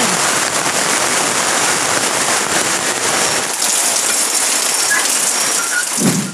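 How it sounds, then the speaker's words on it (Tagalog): Heavy rain pours steadily and loudly, a dense continuous hiss of drops drumming on a surface with no voices. "Lakas ng ulan!"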